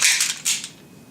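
A handgun magazine being reloaded, close and loud: a burst of sharp metallic clicks and clacks in quick succession, a brief pause, then another snap before the sound trails off.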